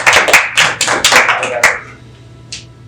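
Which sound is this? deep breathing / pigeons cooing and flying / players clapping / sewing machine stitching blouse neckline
players clapping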